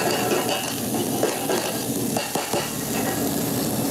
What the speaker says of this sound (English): Got a hot pot, I'm gonna add some oil. Got some minced onions.